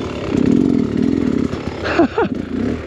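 A Beta X Trainer enduro motorcycle launching on a trail, its engine droning loud and close with a throttle blip and rising pitch sweeps near the end of the brief burst.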